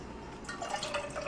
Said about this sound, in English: So I'm going to pour a little bit in here.